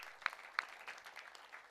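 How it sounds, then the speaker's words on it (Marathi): Applause at a cricket tournament prize distribution comes through fairly faint, with a couple of sharper claps standing out from scattered clapping that continues briefly. "एकदा जोरदार टाळ्या वाजूया"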